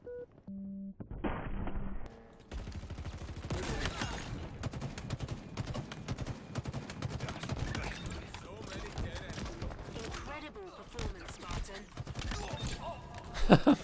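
Rapid bursts of gunfire in the Halo video game, sharp repeated shots and thuds over a busy game mix, with players talking over the action.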